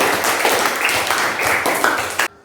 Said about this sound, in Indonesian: kita kasih aplaus buat kelompok